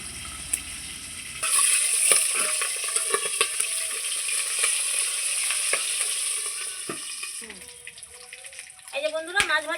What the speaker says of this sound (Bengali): এইবার আমি তেল দিয়ে দিচ্ছি, সরষের তেল, পাবদা মাছটা ভেজে নেব।